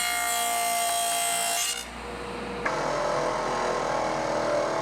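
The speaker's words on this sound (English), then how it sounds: "Now that I have my dado stack in and my sacrificial fence on, it's time to make a test cut" Table saw fitted with a dado stack and sacrificial fence cutting a test groove in wood, a loud steady whine that shifts tone midway as the blade bites into the board, continuous throughout with no talking.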